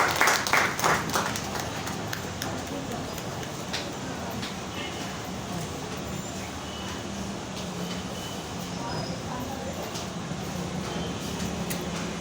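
A church congregation at a praise and worship service claps its hands, a busy, even roar of clapping that is strongest at the start and continues with voices mixed in.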